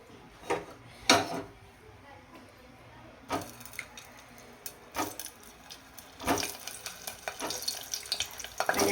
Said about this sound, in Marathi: तेल थोडंसं गरम होऊ द्यायचे आणि लगेच आपल्याला त्याच्यामध्ये टाकायचे आहेत भरलेले वांगे.